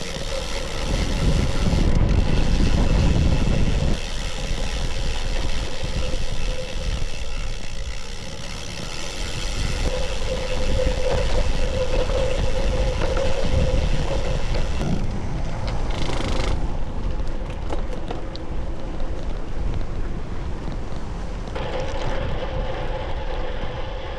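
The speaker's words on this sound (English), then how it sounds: "this tailwind is really coming in clutch now" Steady roaring wind rushes past a cyclist speeding down a descent with a tailwind on the Fred Whitton route in the Lake District, loud and continuous with slight swells and no talk.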